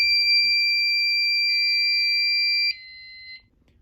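Electronic tones from a Fire-Lite MS-5UD fire alarm control panel sound steadily and loudly for close to three seconds following a system reset, then step down to a quieter tone and cut off, leaving near silence.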